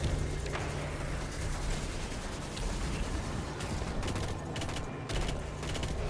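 Rocket fire and heavy weapon blasts in the Destiny 2 video game, a dense, continuous barrage of booms and crackling impacts that fills the whole clip with no clear gaps.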